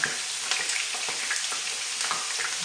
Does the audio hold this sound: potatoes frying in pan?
yes